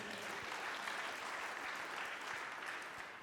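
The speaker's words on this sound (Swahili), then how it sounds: "Mpigieni makofi jameni." Steady applause from a church congregation at a sermon service, a dense, even wash of many hands clapping, fairly faint and continuous throughout.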